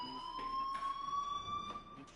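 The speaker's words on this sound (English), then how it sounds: "Hey, do you hear that fire alarm?" A fire alarm sounds in the video game Life is Strange, a steady electronic tone that holds through the whole stretch, with faint knocks and shuffles underneath.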